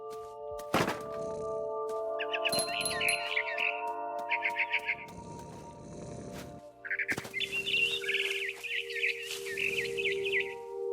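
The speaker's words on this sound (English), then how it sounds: "Then I heard chirping outside my window. It was a barn swallow going back to her nest." A barn swallow chirps in the video game What Remains of Edith Finch, giving bright, repeated chirp bursts alongside a sustained tonal drone and a few heavy thunks.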